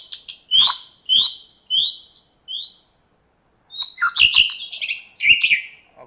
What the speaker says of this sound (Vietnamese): tiếng chim khác.